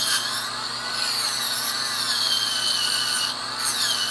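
Power sanding on a carved Shark Queen piece, a steady high-pitched whine and rasp running continuously throughout with brief dips in pitch, close and fairly loud, no talk.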